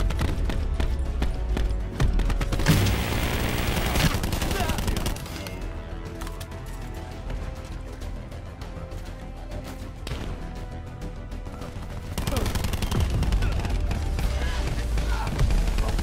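Dense, loud gunfire from an enemy sniper in Call of Duty Black Ops 4 fills the whole stretch, with sharp shots and rattling bursts layered over busy in-game noise.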